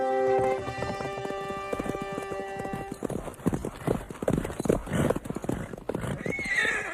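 A horse neighs loudly, then hooves pound in a fast, rhythmic gallop that keeps going, close and strong.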